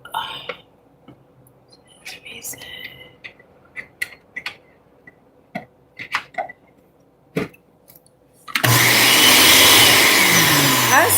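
A blender making a smoothie starts up loud and steady near the end, after a stretch of quiet clinks and kitchen handling sounds with brief talk.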